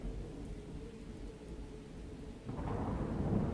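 A thunder and lightning storm rages in a video game, with rain hissing steadily and low thunder rumbling. A louder roll of thunder swells in partway through and keeps building to the end, with no voices over it.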